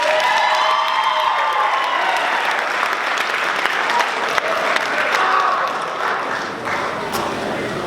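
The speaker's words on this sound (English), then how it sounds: "Give them a round of applause." A high school crowd at the Norton High School Mr. NHS 2025 pageant applauds the contestants, loud, steady clapping mixed with some cheers and shouts that eases slightly toward the end.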